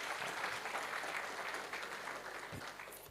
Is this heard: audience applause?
yes